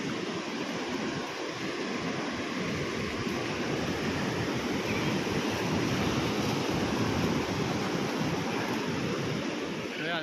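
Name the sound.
strong ocean waves at Sabang, Palawan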